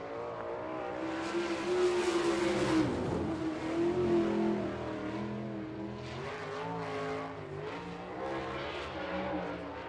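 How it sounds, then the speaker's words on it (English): A sprint race car at a dirt oval short track in Fremont, Ohio accelerates hard out of turn 4, its engine roaring loud and close with a rising, sustained howl that swells and then eases as it passes. "Kinzer hard on the gas out of turn 4"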